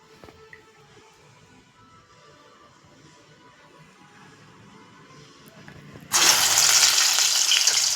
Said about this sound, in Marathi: आणि आता याचे मेदू वडे करते